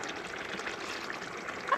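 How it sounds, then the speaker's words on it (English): Water pours steadily into a skillet in a soft, continuous trickle, close and moderately quiet, with a faint clink near the end. "we're gonna add about a half a cup of water"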